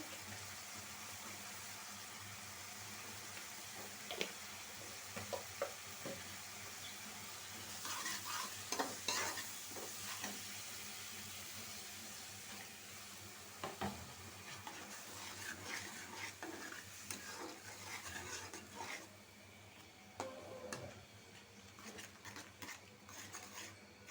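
Spice masala sautéed and stirred in a pan for a dried-fish (chapa shutki) curry: steady oily sizzle runs throughout, with spatula scrapes and clinks against the pan that grow busier midway, and no voices.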